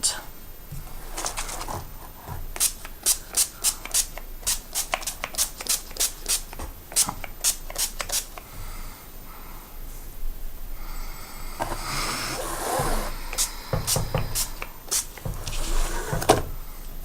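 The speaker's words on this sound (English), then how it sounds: "let's go ahead and spray it so that it can have some time to dry." Rapid, short hissing bursts from a spray can in a quick rhythmic series, then longer sprays later, close by over a low background hum.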